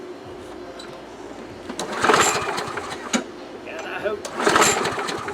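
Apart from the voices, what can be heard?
2005 Murray lawn mower, Quantum 6.5 engine, starting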